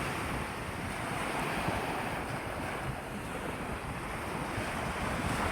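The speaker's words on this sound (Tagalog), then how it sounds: "Ayan, dagat." Surf rolls onto a seashore in a constant wash of noise, buffeted by strong wind noise on the microphone, steady and near throughout with no voices.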